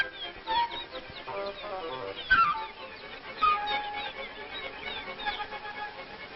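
Young cardinal chicks squawk and chirp insistently, a jumble of harsh, repeated cries close by, rising in bursts.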